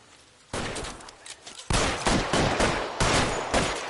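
Suppression gunfire in the L.A. Noire video game: loud bursts of rapid shots, one short volley followed by longer repeated rattling fusillades, fairly close and unaccompanied by talk.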